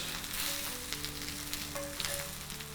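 Leek and onion sausages frying in a pan over high heat, a loud, dense, continuous sizzle with small pops and faint hums, close up and not covered by any talking.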